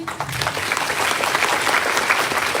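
Students burst into applause, a dense and steady clapping from a crowd at an institution's inauguration event that carries on loudly without a break.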